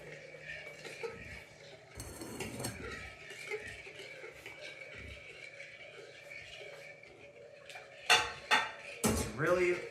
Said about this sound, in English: We're gonna whisk this around.